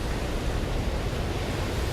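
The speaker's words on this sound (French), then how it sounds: "À l'échelle de l'océan, les vagues scélérates peuvent déferler avec une force phénoménale." Ocean waves crashing, a broad steady roar of surf and wind-like wash, loud and continuous with no distinct breaks.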